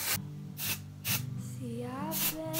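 A salt-texture hair spray for beachy waves is misted in several short, close bursts, with a lone voice murmuring between the sprays.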